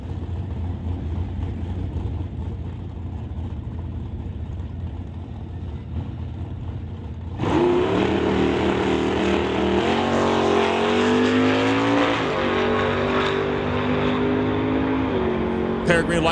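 A CMDRA superbike at a drag strip idles with a low rumble, then suddenly revs hard into a loud, rising engine wail with repeated climbs in pitch. A voice talks over it.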